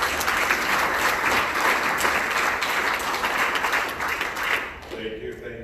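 A big round of applause for a speaker at a Rotary Club meeting, dense steady clapping from the audience that tapers off at the end as a voice begins.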